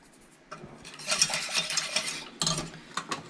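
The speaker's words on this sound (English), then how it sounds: "I'm just gonna stir it as I put it in" A whisk or spoon clinks and scrapes around a pot of goat-meal as ingredients go in, a quick close run of light metallic taps and swishes with no talk.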